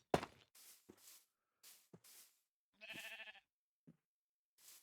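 Sheep in a Minecraft-style video game give a few short, separate bleats with gaps between them, fairly close and clear, with a brief tapping of footsteps.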